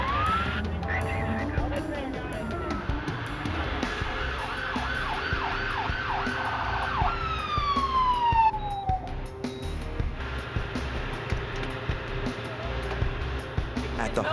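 An ambulance siren wails and yelps in rising and falling sweeps over traffic and street noise, growing clearer midway before fading out. Voices talk over it.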